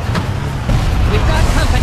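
Car engine and road rumble in the Far Cry video game as a vehicle drives off through a swamp area, a steady low drone with game sound layered over it.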